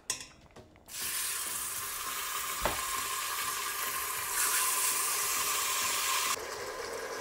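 Beef hits hot oil in a pressure cooker pot with a loud, steady sizzle that continues evenly, growing slightly louder toward the end.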